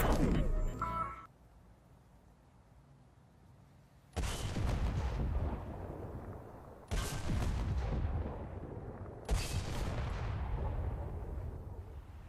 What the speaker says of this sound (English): There's a tank outside shooting at us.